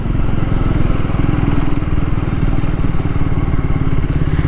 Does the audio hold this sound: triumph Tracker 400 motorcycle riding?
yes